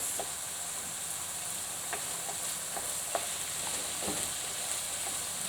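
Shepherd's pie filling with flour stirred in a pan: a continuous soft sizzle and hiss underlies scattered light scrapes and taps of a spoon, steady and close, with no talking.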